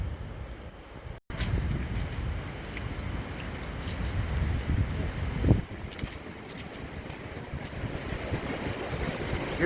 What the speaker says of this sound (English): Still hear that wind.